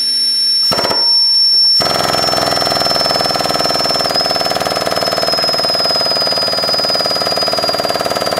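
A 2212-6 brushless motor driven by a 30 amp ESC starts up under a hydraulic press: a short burst of noise, then a loud steady high-pitched whine and buzz that holds for several seconds.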